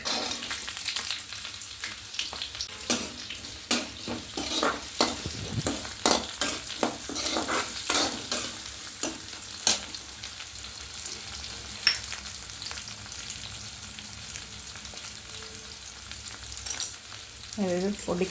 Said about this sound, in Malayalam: നമുക്കിതിലേക്ക് ഉള്ളി, വേപ്പില ഇട്ട് കൊടുക്കാം.